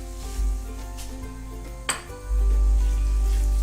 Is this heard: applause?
no